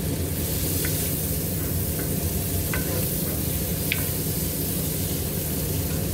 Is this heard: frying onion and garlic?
yes